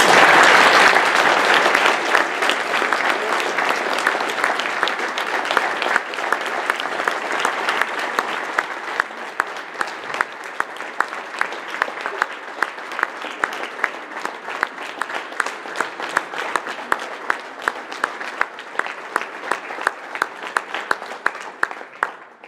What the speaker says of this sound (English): Perhaps you could be upstanding to give a round of applause to Kevin, the President.